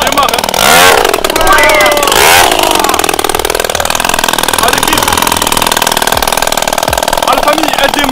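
Cheap Chinese motocross bike bought online starts up loud and close, a harsh buzzing engine that revs in bursts before settling into a rough, steady idle.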